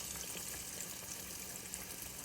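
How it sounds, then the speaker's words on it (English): A pork chop fries in shallow grease, giving a steady, even hiss and crackle of sizzling fat close up, with no voices. "Turn it over a little bit and let it sizzle just a little bit on that side right there."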